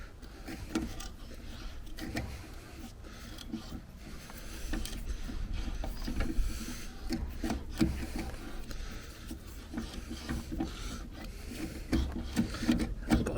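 A thread is cut into wood for a homemade raised bed machine, giving a continuous rough rasping and grinding with irregular creaks and scrapes, close by and moderately quiet, with no talking.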